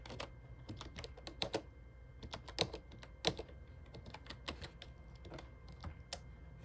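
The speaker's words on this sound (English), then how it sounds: "we can type a note" Typing on a computer keyboard, likely an Apple ARM machine, with a steady run of close, quiet key clicks in uneven bursts and no speech.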